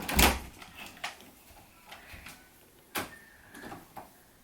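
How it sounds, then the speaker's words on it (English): A cupboard-style door in a house is handled, with a sharp knock or latch at the start, then several soft bumps and clicks, quiet and close. "open the door"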